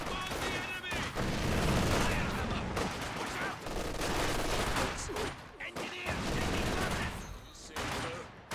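Infantry gunfire in Company of Heroes 2, bursts of rifle and machine-gun fire crackling over continuous battlefield noise, with a commentator talking over the action.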